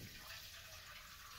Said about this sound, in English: I put a strainer over this bucket and I'm just gonna